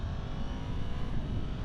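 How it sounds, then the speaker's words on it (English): A 2023 Yamaha MT-10 motorcycle engine roars close by, revving hard with a dense, continuous growl that rises and falls as it runs through quick-shift gear changes with auto blip. "Yamaha does such a good job with their quick shift and auto blip"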